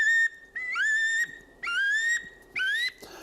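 A duck whistle imitates a wood duck call: three long, drawn-out squealing notes that each rise and swoop upward, loud and close, separated by short gaps, with no voices.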